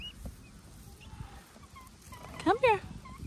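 Domestic turkeys let out a loud, rapid gobble, a quick burst of two warbling calls near the close, with faint background noise and a murmur of voice before it.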